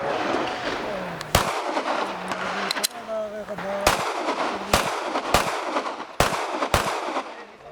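Sharp gunshots crack out at an IPSC shooting match, about eight reports spaced irregularly over several seconds, each loud and abrupt over a murmur of outdoor range noise and people talking.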